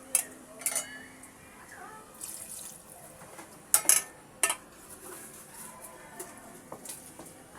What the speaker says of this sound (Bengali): যেহেতু আমার মুরগির মাংসটা আগেই কষানো ছিল, সেজন্য আমি এখন আরেকটু পানি অ্যাড করব।